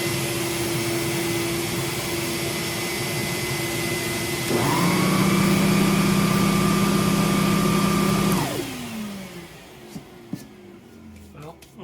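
An Electrolux upright vacuum cleaner with a freshly repaired bag door starts up with a loud, steady motor whine that holds for about four seconds before spinning down, over a background hum from earlier.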